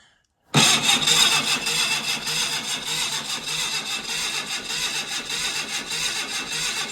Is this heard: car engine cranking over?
yes